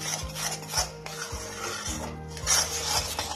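Peas stirred in a pan with a spatula while cooking, giving repeated scraping and rasping strokes at a steady rhythm, close and clear, with no talk.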